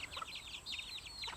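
Chickens clucking in a backyard coop, a run of quick close-up clucks and soft calls repeating through the moment with no voices.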